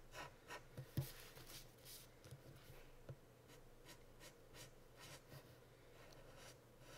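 A Copic marker drawing small borders on a sketch card, faint soft scratchy strokes repeating in short bursts against a quiet room with a low hum.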